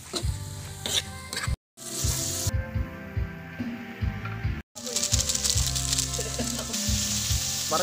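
Adobo in coconut milk with young coconut sizzles and fries in a pan, a loud continuous crackle broken by stirring clatter and two brief cuts.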